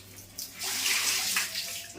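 Water poured into a fish bowl that was just washed out with hot water, a short burst of rushing, splashing water swelling after a soft knock and tapering off, close and alone.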